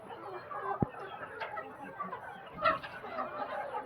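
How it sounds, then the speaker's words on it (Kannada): Free-ranging chickens foraging on a farm, scattered soft clucks and a sharp peep over a low, busy outdoor background, fairly quiet and close, with no clear talk. "ಕೋಳಿಗಳು ಮೇಯ್ತಿರೋ ಕ್ಷಣ ನೋಡಬಹುದು."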